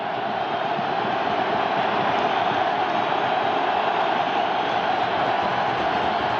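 A Buffalo stadium crowd at the Dolphins–Bills AFC Wild Card playoff game makes a continuous, even roar that holds at a constant level from start to finish.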